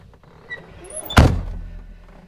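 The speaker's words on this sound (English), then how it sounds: "Let me shut this door." An excavator cab door swings shut with a single solid thunk, close and fairly loud, followed by a short low rumble that fades in the enclosed cab.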